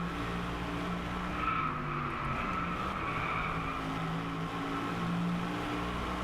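In the racing game Driveclub, an Aston Martin Vantage V12S on a Japan track snarls through a corner. Engine tones rise and fall while loud tire skidding and squeal run continuously underneath.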